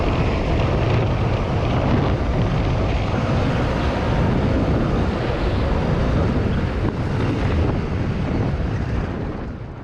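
Loud, steady wind buffeting on the microphone while riding a Honda CRF250L dirt bike on a trail, a constant roar with the engine blended underneath, no talking.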